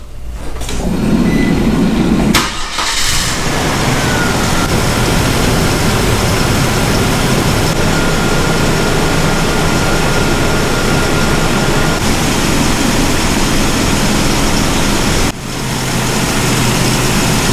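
The engine of a DIY off-road mini camper turns over and settles into a loud, steady running drone, with a brief clatter at startup and a short dip in the noise near the end.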